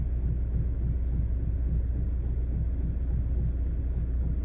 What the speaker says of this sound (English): The car keeps making this noise and I'm not too sure what it is